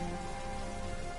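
Steady rain falls across a scene in the PS4 game Heavy Rain, a dense, even hiss covering the whole short stretch with no voices.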